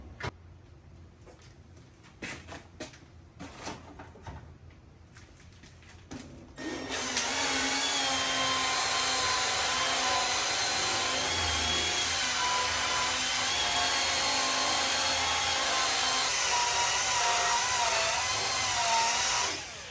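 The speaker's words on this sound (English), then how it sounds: "And a polisher doesn't need to be expensive. This is a Milwaukee one." Milwaukee polisher starting after a few scattered taps and clicks, then running with a loud, steady high-pitched whine and even motor drone for over twelve seconds before cutting off.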